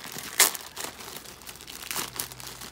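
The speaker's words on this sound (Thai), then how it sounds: "มาแกะกันเลยค่ะเพื่อนๆผมให้สามีกบแกะ" An Amazon online-order package being unwrapped, with a sharp burst of crinkling and tearing plastic early on, followed by softer rustling and handling noises up close.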